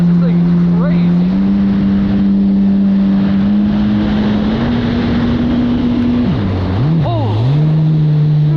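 A JSB Intersceptasaurus Rex racing boat with Worx sponsons runs a lap on the water, its engine droning loud and close with a steady, shifting pitch, buffeted by wind noise throughout.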